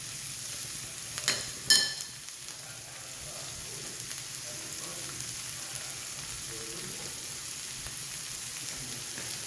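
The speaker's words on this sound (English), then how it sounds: "we're just going to saute these until they're soft, maybe get a little color on them" Vegetables and leftover steak sautéing in a pan, a soft steady sizzle with a couple of brief utensil clinks early on.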